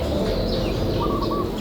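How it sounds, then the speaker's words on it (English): Birds outdoors in Hawaii give a few clear chirps and calls over a constant ambient hiss, with no voices. "Listen to that one random bird."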